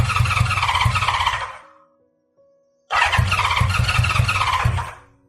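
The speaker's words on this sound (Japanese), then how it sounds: "エンジン始動、初爆を確認。" A Honda CB550F motorcycle engine cranks and catches with its carburettor running slightly rich: two loud bursts of starter whirring and rough firing, separated by a short near-silent pause with a faint hum.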